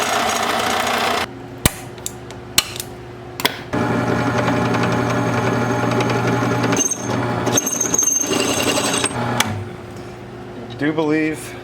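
A drill with a slightly wobbly bit runs loudly for several seconds between sharp knocks and clatter while working on an old Yazoo mower, with a person talking over parts of it.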